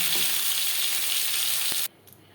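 Tilapia fish frying in oil makes a steady, close hiss and crackle that cuts off abruptly after about two seconds, leaving near silence.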